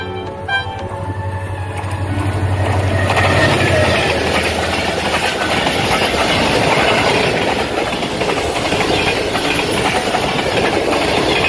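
The Tezgam Express passenger train in Pakistan roars past at speed, loud and close, its wheels clattering rhythmically over the rails in a dense, continuous rush with a low engine drone at the start.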